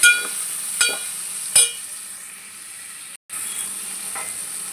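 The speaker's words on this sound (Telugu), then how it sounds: "టమాటా ముక్కలు కూడా వేసి బాగా వేసుకోవాలండి" Tomato pieces and onion fry in hot oil for a pasta curry, a steady sizzling hiss broken by a few sharp scraping stirs.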